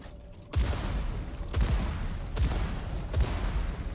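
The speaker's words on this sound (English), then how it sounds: "All the explosions." Several deep booming explosions in the game Dune, spaced about a second apart over a constant rumbling background, loud and heavy.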